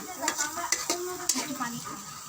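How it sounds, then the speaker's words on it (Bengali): A ginger, garlic and onion paste is fried and stirred in a pan over a clay stove, with a soft sizzle and several sharp utensil scrapes and clinks against the pan. "এখানে হচ্ছে আদা রসুন এবং পেঁয়াজ বাটা দিয়ে এখানে ভাজা হচ্ছে।"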